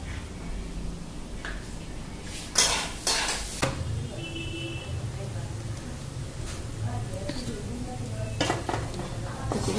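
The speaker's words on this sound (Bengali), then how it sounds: "আলু ভাজাটা হয়ে গেছে, উঠায় আনি।" Fried potatoes sizzle softly in a pan while a metal utensil scrapes and stirs, with a few sharp clanks against the pan and someone speaking over the steady frying.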